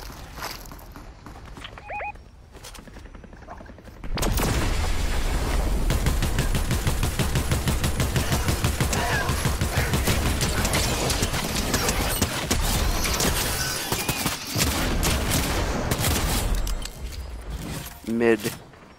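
Long sustained stream of rapid automatic fire from a drum-gun-style weapon in Fortnite, loud and continuous for about twelve seconds, with a few quieter game sounds and speech before and after.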